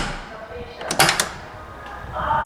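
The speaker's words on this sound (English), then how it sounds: "Oh my god, the sound of this door." The door of a 1991 Mercedes Unimog, a truck-tractor hybrid, is worked open and shut, giving a short cluster of mechanical clunks and latch clicks at close range, with a further knock at the end.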